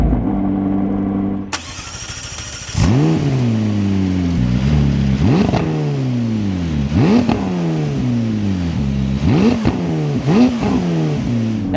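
A McLaren 600LT Spider fires up with a sharp starter crank and loud bark, then settles into a close idle broken by several quick throttle blips that rise and fall, with no talking.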